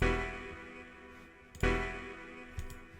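Two sharp hardgroove techno synth stab hits, dry and bright, each striking hard then decaying quickly, with no effects tail.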